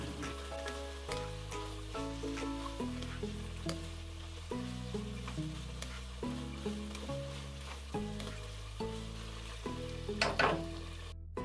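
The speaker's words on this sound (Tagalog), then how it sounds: "This time guys, pwede nating ilagay yung ampalaya natin. Haluin lang natin ng mabuti." Bitter gourd being stirred into cooked tomato in a pan, a soft low sizzle with faint intermittent scraping from the stirring, and a brief clatter near the end, quiet and with no talking.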